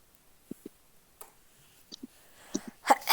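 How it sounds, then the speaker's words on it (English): A person sneezes close to the microphone: a few small sharp breaths and clicks lead up to one loud burst at the end. "Okay, sneezed."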